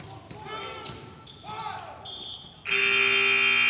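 At a boys' high school basketball game, a loud electronic buzzer sounds the end of the quarter. It cuts in sharply after a stretch of excited announcer commentary and crowd noise, then holds steady.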